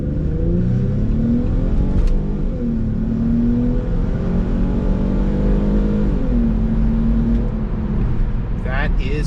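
A car engine revs and accelerates, its pitch climbing and falling through gear changes, loud and close for the whole stretch.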